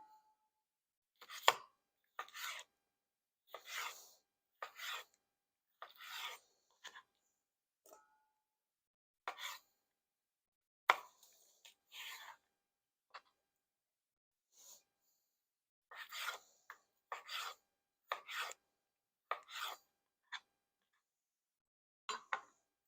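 Crisp knife strokes slicing a bell pepper into strips, scattered chops landing against a cutting board in short bursts with quiet gaps between them.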